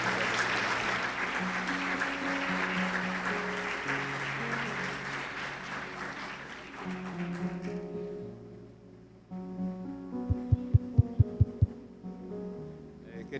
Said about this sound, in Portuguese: Vamos aplaudir o Senhor pela vida dos nossos irmãos